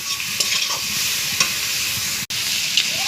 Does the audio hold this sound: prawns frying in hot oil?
yes